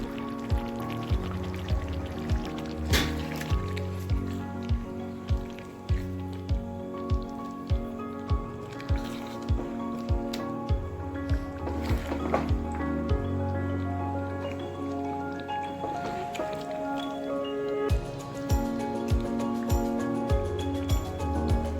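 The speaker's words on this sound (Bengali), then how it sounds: "অল্পই জল দেবো।" A little water goes into a simmering chicken and spinach curry, giving a close, continuous pouring and bubbling wash punctuated by small regular clicks and drips, with no talking.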